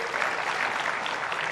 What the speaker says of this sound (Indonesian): boleh tepuk tangan dulu buat Bapak dua ini